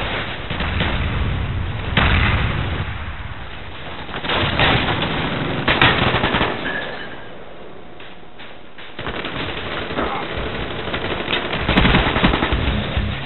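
Sustained automatic gunfire from a sentry gun in Call of Duty Black Ops on a firing range map, rattling in long dense bursts with sharp cracks, loud and continuous with a brief lull midway.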